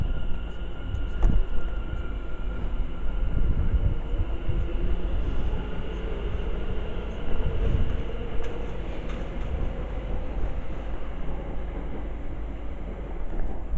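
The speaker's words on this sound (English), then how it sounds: "Departing now is the 1804 London Overground service to London Euston." A London Overground train pulls out of Harrow & Wealdstone station, a low rolling rumble with a faint steady whine and occasional clunks, heard from the platform at moderate distance.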